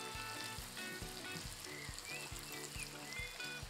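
Pork tenderloin pieces sizzle steadily in a hot pan while being sautéed and turned over, with a dense, continuous frying hiss and a few soft knocks from turning the meat, close and fairly quiet, with no talking.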